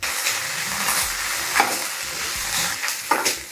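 A mixture frying in a pan gives a continuous close sizzle and hiss, with a couple of sharp spatula scrapes against the pan.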